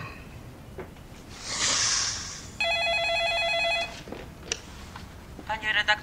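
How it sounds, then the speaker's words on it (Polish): An office telephone rings with two bursts of a trilling electronic bell, fairly loud and near, amid room noise and brief movement sounds. "pilny telefon z domu"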